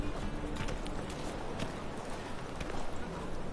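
Roach the horse from The Witcher 3 moves at a steady pace, hooves clip-clopping in an even, continuous rhythm at moderate loudness throughout, with no talk over it.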